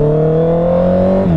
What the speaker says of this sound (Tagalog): Ganda ng throttle response niya, napakaingay